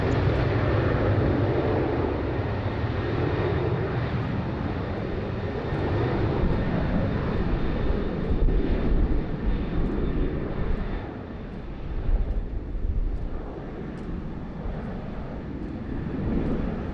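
A departing airliner roars at Sydney Airport, a broad, steady engine rumble that holds strong for the whole stretch and swells slightly near the middle before easing off a little.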